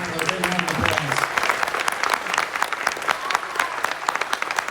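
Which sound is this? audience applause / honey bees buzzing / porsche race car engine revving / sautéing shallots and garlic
audience applause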